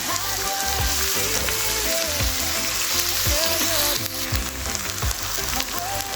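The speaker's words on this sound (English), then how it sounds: "then we put our shredded potato and our courgette and also our onion. We cook them for a few minutes." Shredded potato, courgette and onion fry in an oiled pan for a courgette and potato omelette, giving a steady, close sizzle that crackles continuously throughout.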